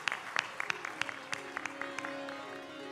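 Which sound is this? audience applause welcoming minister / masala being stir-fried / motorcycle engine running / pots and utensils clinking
audience applause welcoming minister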